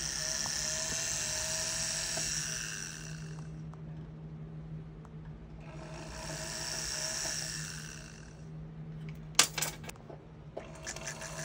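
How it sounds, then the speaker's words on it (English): A small drill bit bores into a diamond ring setting, giving two sustained high-pitched whining bursts of a few seconds each, separated by quieter pauses, with a steady low hum underneath and a few sharp clicks near the end. "Now I'm going to take a drill bit in there."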